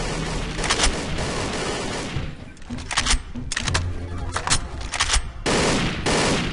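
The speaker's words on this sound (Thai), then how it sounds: "ระเบิดตกเลยระเบิดตก" Loud booming blasts and rattling gunfire erupt repeatedly over a continuous roar in the video game XSHOT, several heavy explosions hitting close in a chaotic barrage.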